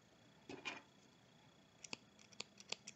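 Scissors snip through knitting yarn at the end of a knitted sweater piece, a soft double cut near the start followed by several sharper, quieter snips later, close and alone with no talking.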